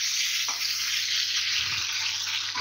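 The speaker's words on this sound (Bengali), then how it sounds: "এখানে মাছের ঝোলের আলু ভাজতে দিয়ে দিয়েছি" Potatoes frying in oil for a fish curry in a home kitchen, a dense, steady sizzle close by with no talk over it.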